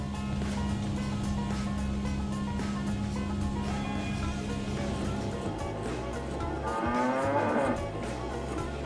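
Dairy cows mooing in a barn during machine milking, a long low moo and a later rising call over steady droning milking equipment and barn noise.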